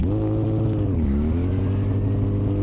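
A car engine revs in neutral in the My Garage driving game, a loud, steady, close-up drone with a harmonic whine that dips briefly and then climbs back and holds.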